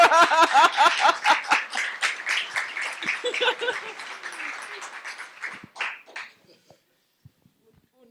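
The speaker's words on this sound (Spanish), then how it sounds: "Quiero que lo reciban con un aplauso, por favor." Crowd at a book launch gives a round of clapping, sharp and lively at first with some voices and chuckles, then thinning out to scattered claps and near silence by the end.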